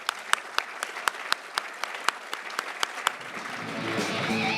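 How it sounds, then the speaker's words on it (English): A gala-night audience at an international school's 50th anniversary claps for award winners in sharp, separate claps that thin out and trail off into a soft murmur. "Let's give the winners another round of applause"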